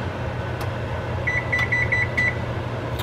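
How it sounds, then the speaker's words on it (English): Kitchen oven timer being set while cooking, giving a short run of five or six clear electronic beeps in quick succession over a steady hum of background noise. "So we'll put our oven timer on."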